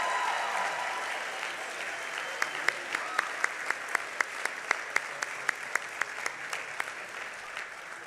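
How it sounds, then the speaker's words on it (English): A commencement ceremony audience applauds in a large hall, a soft, steady wash of clapping with one nearby pair of hands beating sharp, evenly spaced claps over it. "Join me in offering a round of applause to thank your families, friends, and instructors for all of the support and encouragement they have provided you."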